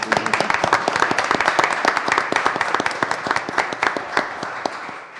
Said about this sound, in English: Yes, let's give her a round of applause.